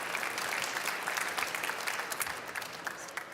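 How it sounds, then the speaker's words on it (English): A conference audience at the Formnext industry stage claps after a talk, producing a dense, even burst of applause that holds steady for a few seconds with no voices over it. "Big applause, please."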